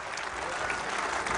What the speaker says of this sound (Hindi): तालियां बजा देते हैं